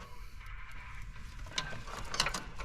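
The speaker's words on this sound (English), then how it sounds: "Got the nice trustworthy snap-on torque wrench." Snap-on torque wrench ratcheting during a 2022 mod install, a few close, crisp clicking turns rising toward the end, no talk.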